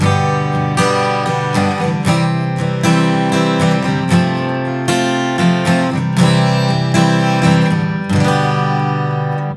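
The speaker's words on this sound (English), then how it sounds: "I played that with just the straight major chords" An acoustic guitar strums full, ringing open major chords in a steady rhythm, each strum bright and sustained, played close with no voices.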